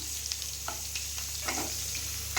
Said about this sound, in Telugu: పచ్చిమిర్చి ఉల్లిపాయలు బాగా ఫ్రై అవ్వాలి